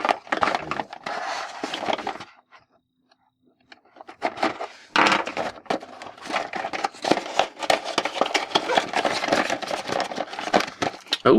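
Battle B-Daman toy packaging, a Hasbro Lightning Kahn set with a plastic marble, being torn and cracked open, giving dense crinkling, snapping plastic and cardboard rustles in bursts with a short quiet pause, close and fairly loud.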